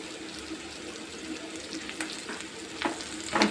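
Egg bhurji with coriander is stirred in a hot pan, producing a steady sizzling hiss with soft scrapes that grow a little louder toward the end, heard close up.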